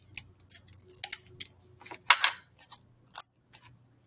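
Tape being pulled off a roll and pressed onto the top of a pencil gives a quiet series of short, sharp crackles and rips with pauses between them, close by in a calm room.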